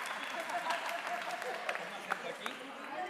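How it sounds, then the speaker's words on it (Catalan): An audience at a panel event applauds a guest's arrival, a soft, distant patter of clapping with a few sharper claps, while people talk underneath. "Aplaudiment."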